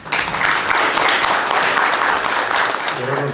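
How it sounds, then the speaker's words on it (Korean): Audience applause at a formal opening ceremony, a dense steady clapping from a crowd that holds loud and even throughout with no break. "따뜻한 박수로 맞이해 주시기 바랍니다"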